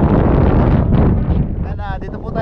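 Strong sea wind blasts straight into the microphone, a loud rumbling roar that eases slightly toward the end as a voice begins to speak.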